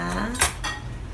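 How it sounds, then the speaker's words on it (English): A fork, spoon and knife clatter together on a kitchen surface in a quick burst of metallic clinks, one sharp clank standing out, close and alone without talk. "Fork, spoon, and knife."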